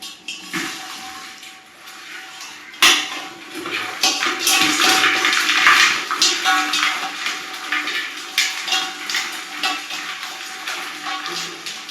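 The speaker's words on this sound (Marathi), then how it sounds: "ह्याच्यामध्ये चिंबोरे हे ओतून दाखवतो तुम्हाला ह्याच्यात" Freshly caught crabs and water are poured out of a container, a loud sloshing, splashing rush with rattling clatter of shells that starts with a sudden burst and keeps gushing close by.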